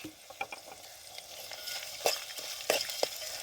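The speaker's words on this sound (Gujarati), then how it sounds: "ડુંગળી થોડીક તેલમાં આપણે પાકવા દઈશું ઝીણું સુધારે લસણને પણ નાખી દઈશું" Steady sizzling of onion and garlic frying in oil, with a few sharper stirring scrapes and clicks; no voices.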